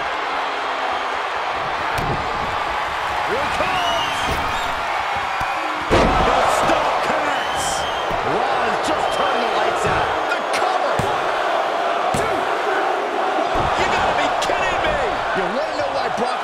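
A large arena crowd in the WWE 2K22 wrestling video game, from a Brock Lesnar vs Seth Rollins match, cheers and roars continuously, with sharp slams and thuds cutting through the loud, sustained crowd noise.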